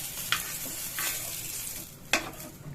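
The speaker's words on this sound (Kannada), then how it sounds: "ಈಗ ಒಣ ಕೊಬ್ಬರಿ ಗೋಲ್ಡನ್ ಬ್ರೌನ್ ಬಂದರೆ ಸಾಕು ತುಂಬ ಫ್ರೈ ಮಾಡಿಕೊಂಡು" Dry coconut is stir-fried in a pan for a coconut-lentil broth, with a faint background sizzle broken by a few sharp scraping stir strokes.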